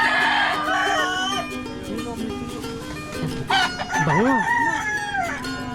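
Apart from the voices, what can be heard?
rooster crowing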